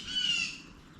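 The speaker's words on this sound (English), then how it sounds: "So birds are not happy." A single bird gives a harsh squawk outdoors, loud and close, then fades within a second.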